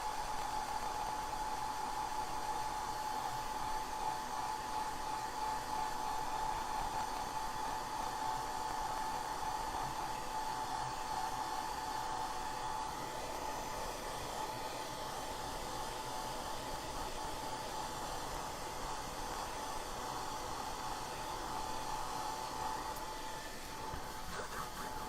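A hair dryer dries wet paint on a cupcake drawing, running as a steady, close, continuous airy roar with a thin whine the whole time.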